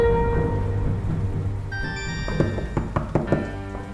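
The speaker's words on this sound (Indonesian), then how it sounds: "Hujan-hujan kayak gini." Rain patters down with dull thunks and drips striking surfaces, heard against a steady background hum from a drama scene.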